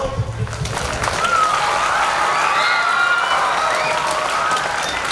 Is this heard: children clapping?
yes